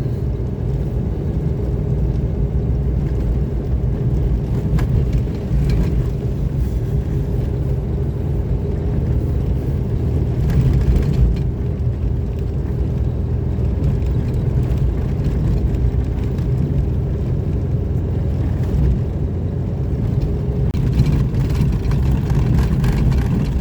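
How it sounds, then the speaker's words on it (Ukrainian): Vehicle engine running steadily as it pulls away, a constant low rumble with no break, loud and close, with no talk over it. "Заводимося і виїжджаємо все, на силу виїхав."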